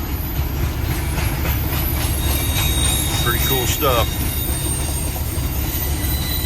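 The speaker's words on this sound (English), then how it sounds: "Pretty long train." A train rumbles steadily past with continuous low roar and occasional wheel squeals, while someone speaks briefly over it.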